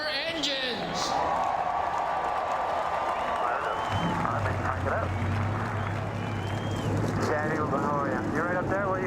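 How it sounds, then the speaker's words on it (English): Stock car engines at New Smyrna Speedway fire up midway through as a field of 20 cars starts, a low steady rumble rising beneath crowd noise and wind, with talking heard over it. "Let's get these 20 cars rolling with the command to fire the engines."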